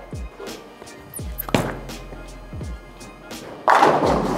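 A Purple Hammer reactive bowling ball rolls down a sport-shot lane with speed and heavy roll and jams into the pins, ending in a loud, close crash of scattering pins after several thuds.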